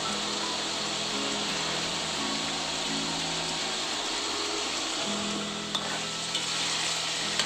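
Liver stir-fries in a pan, sizzling steadily and close, with stirring scrapes and a faint hum underneath, and no talk.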